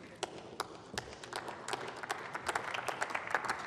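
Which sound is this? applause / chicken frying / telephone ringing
applause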